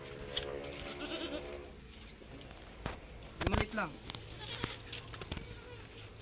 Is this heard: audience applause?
no